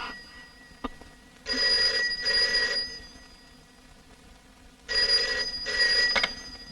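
A telephone rings in an advocate's office at night in a Tamil film scene, two loud double-ring bursts separated by a pause, fairly near and alone with no talk.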